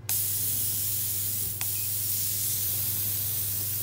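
A stand-style oxygen jet machine sprays steadily at close range, a loud continuous hiss with a low hum beneath and one brief sharper burst partway through.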